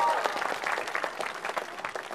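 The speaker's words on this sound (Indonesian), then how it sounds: "tepuk tangan lagi buat Battle of Comic" Applause from a studio audience at the Battle of Comic stand-up comedy show in Indonesia, brisk and dense clapping with crowd noise that tapers slightly as it goes on.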